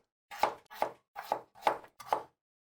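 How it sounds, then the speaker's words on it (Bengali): Knife chopping peeled papaya into cubes on a cutting board, five evenly spaced crisp chops, close and clear with silence between them. "একটু পেঁপে কেটে নিব।"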